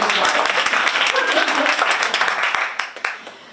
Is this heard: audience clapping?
yes